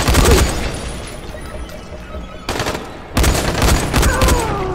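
Gunfire in the video game Dying Light, with bursts of rapid shots at the start and again near the end and a quieter stretch between them.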